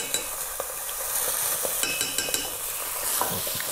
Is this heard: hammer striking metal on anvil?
no